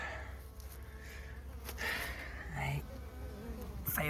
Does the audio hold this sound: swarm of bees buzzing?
yes